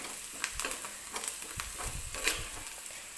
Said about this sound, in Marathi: परत एकदा व्यवस्थित मिक्स करून घेते, म्हणजे कांद्यामध्ये सगळे हळद व्यवस्थित मिक्स करून घ्यायची आहे.